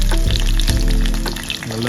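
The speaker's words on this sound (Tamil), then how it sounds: "வெங்காயத்தை நம்ம நல்லா வதக்க போகிறோம்னா நல்லா ஒரு கோல்டன் ப்ரௌன் கலரில் வதக்கணும்" Small shallots sautéing in a hot pan for a spicy garlic curry, a loud, close, continuous sizzle and crackle with occasional stirring, no voices.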